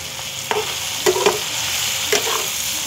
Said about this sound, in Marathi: हे आता थोडं नरम पडेपर्यंत फ्राय करायचे आहे.